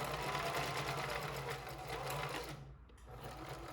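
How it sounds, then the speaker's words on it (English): A sewing machine runs steadily as a fabric face mask piece is stitched down, a continuous close motor whir that briefly dips and then resumes with slightly lower loudness. "Now you're going to take your main piece, sew it down."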